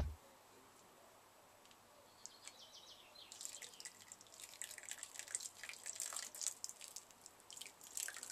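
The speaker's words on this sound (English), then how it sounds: "The first step is to fill some plant pots with compost and then add water." Water trickles and drips into plant pots filled with compost. The quiet opening gives way to a run of close, irregular splashes and drips that builds in the second half.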